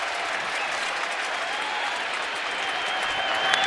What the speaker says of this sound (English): Full house crowd cheering for him.